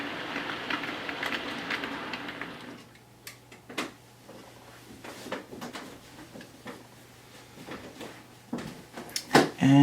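An OO gauge model train pulling Mk1 coaches, with a BCK brake composite at the rear, clicks and ticks over rail joints in irregular light taps after a soft running rumble, close and quiet.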